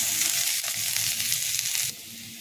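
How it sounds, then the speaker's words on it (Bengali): Ginger-garlic paste frying in a pan for patoler chop, a steady dense hiss of sizzling oil close up that drops slightly in intensity near the end. "এবার এই আদা রসুনটাকে একটু ভালো করে ভেজে নেব।"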